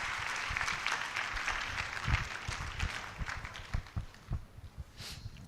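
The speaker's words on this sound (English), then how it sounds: "A better round of applause for Dr. Pra for taking us through healthy li" Audience applause after a campus orientation presentation for new students, a steady wash of clapping at moderate distance with a few louder claps standing out.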